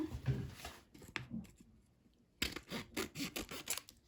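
Scissors snipping open a paper packet of tomato seeds at close range, quiet rustling and handling followed by a quick series of crisp cuts.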